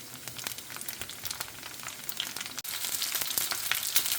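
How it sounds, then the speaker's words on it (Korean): Green onion wrapped in dumpling skins frying in hot oil, a steady close crackling sizzle with sharp pops throughout, briefly dipping once midway. "노릇노릇 뒤집어가며 튀겨주세요"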